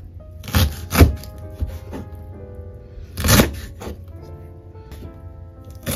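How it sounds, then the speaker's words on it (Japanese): A knife cutting Japanese parsley and butterbur stalks into bite-size pieces on a cutting board, a few sharp separate chops with quiet gaps between them. "食べやすい大きさに切ります。"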